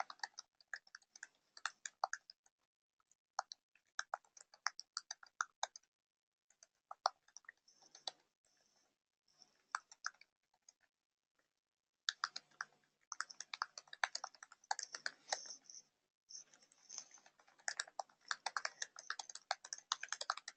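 Someone types a message on a computer keyboard, producing faint, close clicking in irregular bursts separated by short pauses, with a denser stretch of rapid keystrokes toward the end and no talking.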